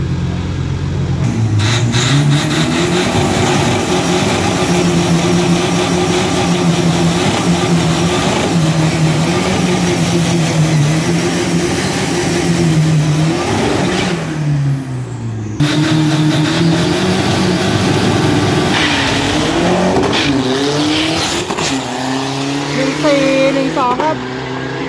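An Isuzu 1.9 Pro diesel drag race car revs hard and accelerates down the strip, its loud engine note climbing and shifting through gears, with an announcer talking over it.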